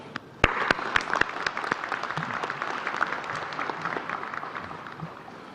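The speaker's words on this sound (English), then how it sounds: "So graduates, please give all of them a big round of applause." A graduation ceremony audience applauding at SIT, a dense sustained clapping from a large crowd with sharp individual claps standing out near the start, then holding steady.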